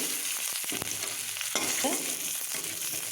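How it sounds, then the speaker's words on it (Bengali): Garlic goes into hot oil left from frying pumpkin for a Bengali bata fish curry. A steady close sizzle carries a few sharp stirring clicks, with no talking. "এই তেলের মধ্যে এই রসুনটা আমি দিয়ে দেবো"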